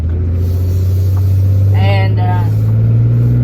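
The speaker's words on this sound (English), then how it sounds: "Oh crap, I gotta wait on this car because I'm too long." A car passes on a country road beside an idling truck's loud steady engine rumble, its brief swell coming through the drone near the middle while someone says a word.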